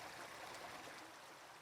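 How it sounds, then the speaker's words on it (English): Water from a cave spring on a creek-hollow property flows steadily in a continuous, soft broadband rush, a gentle stream sound heard alone with no voices. "There's also a beautiful spring that emerges on the property that eventually joins Dry Creek."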